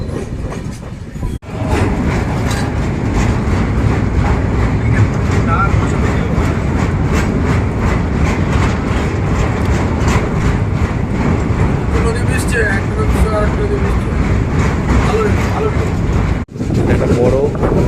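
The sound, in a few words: Malwa Express train running from Katra to Jammu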